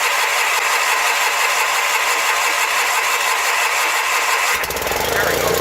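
Sears Suburban SS16 lawn tractor engine cranking for a cold start in winter: a loud, steady mechanical churn runs throughout, then shifts to a harsher, rougher running tone near the end.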